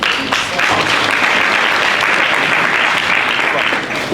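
Steady, dense applause from a conference audience at a security summit ideathon, sustained at full strength throughout before easing slightly at the very end.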